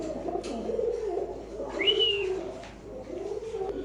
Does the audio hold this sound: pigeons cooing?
yes